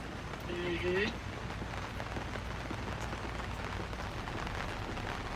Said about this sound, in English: the rain is starting to come down even more